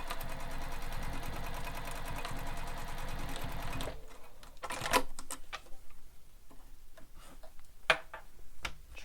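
A sewing machine stitches across a bowler bag in a rapid, steady mechanical chatter for about four seconds, then stops, leaving quiet handling clicks and taps of fabric and thread.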